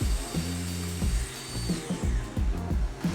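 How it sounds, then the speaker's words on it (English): A domino joiner cuts mortises into solid wood for large sliding barn doors, its motor whine rising and falling through several quick plunges, close and loud with no voices. "I simply line up the mark in the window with my line and plunge the mortise in."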